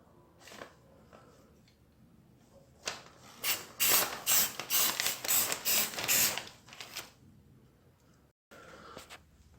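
High-heat flat black spray paint is applied to the exhaust ports of a Harley Road King motorcycle in a rapid series of short, close aerosol bursts, fading back to quiet handling sounds.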